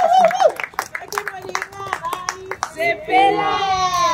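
Wedding guests in Cedar Rapids, Iowa clap in sharp, rhythmic bursts while voices call out and sing acclamations loudly over the hands.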